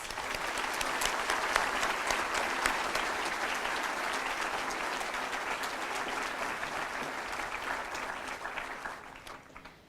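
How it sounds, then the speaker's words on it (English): An auditorium audience at a medical school white coat ceremony applauds the incoming class of 2017, a sustained, even roar of many hands that fades away at the end. "Let's give them a round of applause"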